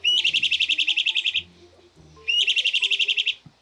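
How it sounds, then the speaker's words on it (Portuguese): Two bursts of a bran-colored flycatcher (Myiophobus fasciatus) short call, each a rapid series of high, bright chirped notes lasting about a second, separated by a brief pause; clear and close with little background. "Ele tem uma vocalização curta que soa para nós como um Felipe"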